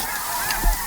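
Snow geese honking during a waterfowl hunt, a short burst of calls carrying at moderate distance over open-air background noise.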